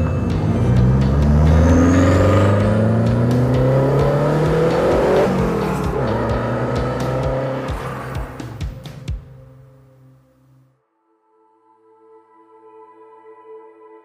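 A 1980 Renault 5 Turbo accelerates hard through several gear changes, its engine note rising and dropping in pitch before fading away, leaving a quieter idle-like hum at the end.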